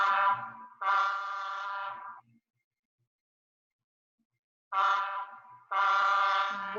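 Two pairs of loud, harmonic semi-truck air horn blasts, each blast about a second long, with a long silent gap between the pairs; no one talks.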